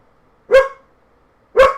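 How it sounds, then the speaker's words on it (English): Two short, sharp dog barks in a video game, about a second apart, clear and close, with silence between them. "Quit barking. It is a Doge dog."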